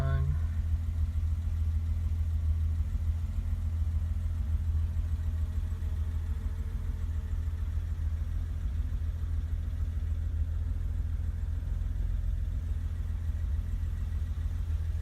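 A 1988 BMW 325 sedan idling steadily after a cold start, a continuous low rumbling drone close by that holds even throughout.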